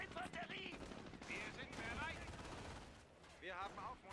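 Machine gun fire in the strategy game Company of Heroes, faint bursts of rapid gunfire mixed with other battle noise, under a voice.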